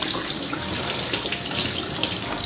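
Tap water runs steadily over a duck egg being washed in a sink, a close, even splashing hiss that carries on alone without pause.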